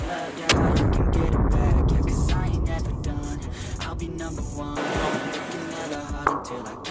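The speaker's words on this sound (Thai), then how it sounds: "ต่อไปเป็นการทดสอบยิงต่อเนื่องนะครับ3นัดนะครับ ทั้งมือเดียวและ 2 มือนะครับ" Homemade Thai short shotgun test-fired outdoors, with a loud close blast near the start and another sharp report later, amid rumbling background noise and faint distant voices.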